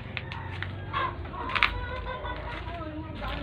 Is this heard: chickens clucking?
yes